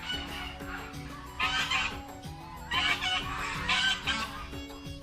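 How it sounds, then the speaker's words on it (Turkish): Ducks and geese quack and honk in noisy bursts, several birds calling together at moderate distance near partly frozen water, over a busy background of chatter. "Ördek bunlar."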